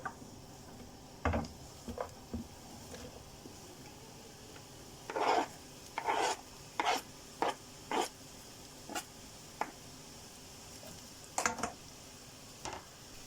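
Onion cut into chunks for a stir-fry cooks in a hot pan, with quiet scraping and stirring strokes coming in short, separate bursts over a faint low sizzle.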